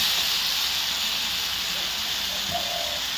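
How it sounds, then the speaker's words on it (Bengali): Water poured onto hot spiced ridge gourd in a pan sets off a steady, loud, hissing sizzle that carries on without a break, with faint clatter and a brief voice near the end. "এবার আমি জল দিয়ে দেবো।"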